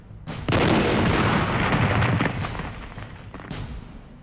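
A huge explosion bursts at a crowded ceremony, a sudden loud broadband blast followed by a long roaring rumble and debris-like crackle that slowly fades, with a second smaller burst near the end.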